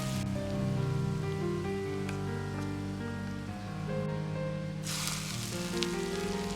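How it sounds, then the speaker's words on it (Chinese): Scallion oil heated to medium-hot is poured into a bowl of seasonings for a cold cabbage salad, a soft sizzle over background music that erupts into a loud, hissing burst near the end. "起锅烧葱油，油温烧至6成热，然后浇入碗中，激发出香味"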